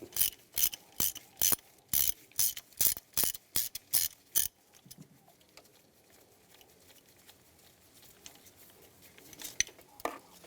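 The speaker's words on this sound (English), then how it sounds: "Use a 13mm socket and take this bolt off." A ratchet on a 13mm socket loosens a bolt on a 2006–2011 Cadillac DTS engine, giving about a dozen evenly spaced, sharp clicking strokes close up, then fading into quiet handling noises.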